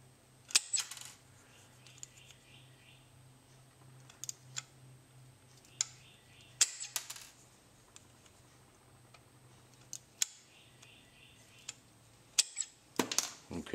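Snips cut the corners of thick, softened copper sheet about fifty thousandths of an inch thick, giving sharp isolated clicks and crunches spaced a few seconds apart over a faint hum.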